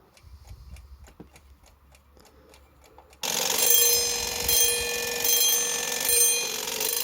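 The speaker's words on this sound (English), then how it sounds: "We should have the alarm ring. Brace yourself, it's probably extremely loud." A Badische striking alarm clock ticks quietly at first, then bursts into a loud, continuous metallic bell ring that swells and fades between louder and softer, with nobody talking over it.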